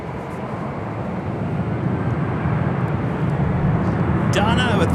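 A Southwest airliner takes off from runway 6 left at LAX, its broad, rising jet roar building steadily and growing louder throughout, with a higher whine entering near the end.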